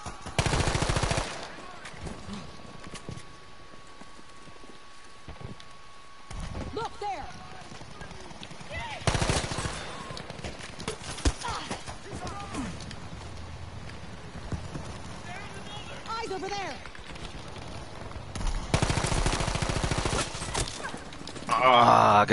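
M2 Carbine gunfire in the video game Battlefield 5, heard as loud bursts of rapid automatic shots separated by quieter gameplay noise, with a person talking over parts of the action.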